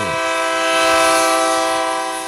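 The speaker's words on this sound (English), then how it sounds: "Here comes the train, the junction train." A train horn sounds as a single long, steady blast, loud and close, rising slightly in strength mid-way before fading a little, played as a sound effect on a live studio broadcast.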